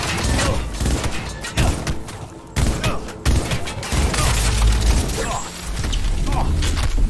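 Shotgun blasts ring out during combat in Cyberpunk 2077, a few heavy thumping shots scattered among busy game effects and mechanical clatter, loud and close throughout.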